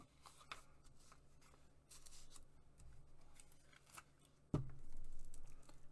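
Scissors trimming junk journal paper, with a few scattered close snips and crisp paper rustles between them, then a louder sharp cut or tap near the end.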